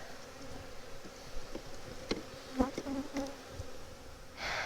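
Honey bees hum steadily around an opened hive during a colony inspection, a close, low drone with a few sharper buzzes from individual bees passing near, and a brief rustling burst at the end.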